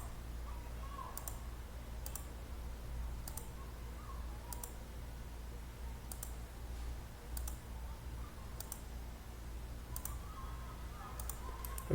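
A computer mouse clicks about a dozen times at an irregular, unhurried pace, crisp and near but quiet, over a low steady hum with no talk.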